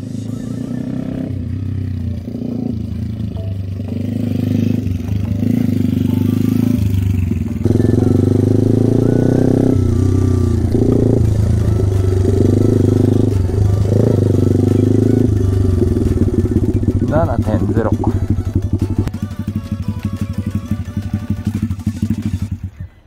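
A mini motorcycle at a driving school in Tokushima, its small engine revving and idling steadily close by for the whole stretch, with rattling clatter and people talking over it.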